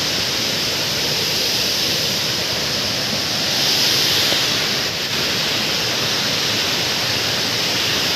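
Pradhanpat waterfall in Odisha's Deogarh district roars as a loud, constant rush of falling water that fills the whole scene without a break.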